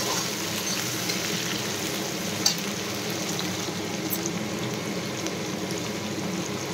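Tomatoes frying in oil in a pan, a steady close sizzle and bubbling hiss that carries on evenly with no talking.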